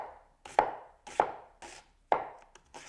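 An onion is chopped with a warped Coolina knife, giving about five slow, deliberate thuds on a board, each a crisp close knock with a short ringing tail.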